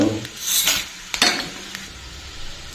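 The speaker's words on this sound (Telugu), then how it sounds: "Oil heat ఎక్కిందండి. First ground nut వేసుకున్నాం." Hot oil sizzles as peanuts fry, while a spoon stirs and scrapes the pan a few times, close and clattery.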